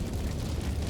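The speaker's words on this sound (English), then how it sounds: "Explosions periodically sent massive fireballs soaring into the air" Explosion effect: a low, rumbling roar that holds steady for under a second, heavy in the bass and moderately loud, with no distinct onset or crack.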